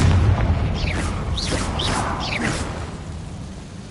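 Confringo spell blast in the video game Hogwarts Legacy: a deep rumbling burst at the start that fades into a fizzing, crackling tail, with a few bright whooshing streaks trailing off across the following seconds.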